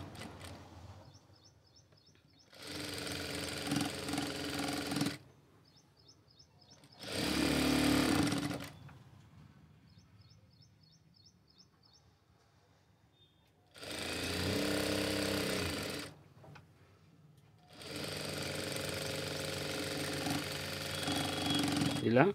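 A sewing machine stitches fabric darts in four separate bursts of rapid mechanical whirring, each a few seconds long, with quiet pauses between.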